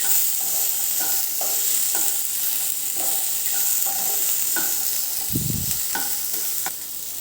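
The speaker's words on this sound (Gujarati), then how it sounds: "એ એડ કરીશું અને એને પણ 1 કે 2 મિનિટ માટે થોડા સાંતળી લેવાના" Boiled green peas being sautéed in a pan while making samosa filling, a steady soft sizzle with repeated scraping stirs of a spoon, one louder low clatter near the end, no voices.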